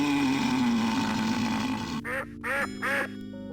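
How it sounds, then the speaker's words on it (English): Three short, loud nasal quacks from a duck-shaped umbrella handle in Sam & Max Hit the Road, following a stretch of steady background music. "the, like, duck umbrella handle is quacking"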